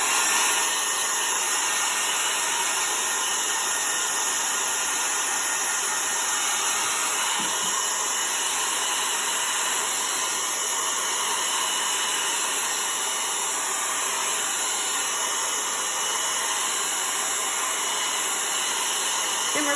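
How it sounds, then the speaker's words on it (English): A hair dryer blows steadily and loudly up close, a constant whooshing hiss with a faint high whine that never stops. "So we're going to use the blow dryer"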